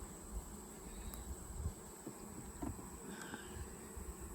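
Honeybees buzz softly and continuously around an open beehive during an inspection, a faint steady hum with occasional louder passes of single bees near the microphone.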